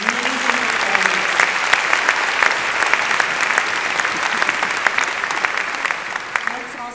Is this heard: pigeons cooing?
no